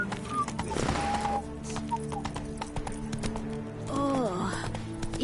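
Hooves of the horse Roach clip-clopping at a trot through Beauclair in The Witcher 3, a steady rhythmic clatter with a brief whinny near the end and crowd murmur beneath.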